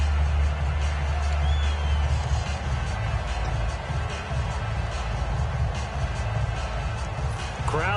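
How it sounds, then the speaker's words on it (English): Stadium crowd noise from a football video game with Packers on the field, a steady broad roar of cheering that swells slightly, with faint whoops, continuous and moderately loud throughout. "Crowd getting in it a bit already."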